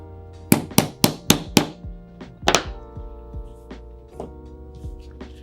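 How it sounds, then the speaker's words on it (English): A pin tapped into a pistol mainspring housing on a Springfield Prodigy, heard as a quick series of five or six sharp metallic taps close up, then a couple of harder strikes and lighter clinks with a ringing tone. "let's pop that pin into place"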